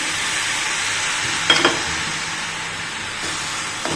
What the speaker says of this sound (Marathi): छान परतवून घ्यायचं आता हे। सगळं व्यवस्थित मिक्स करून घ्यायचं आहे।